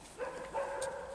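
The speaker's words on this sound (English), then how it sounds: "Somebody drove in the driveway up there and the dogs barked." Several dogs barking at a car pulling into a driveway, a faint, distant yapping with a couple of short bursts, heard outdoors at night.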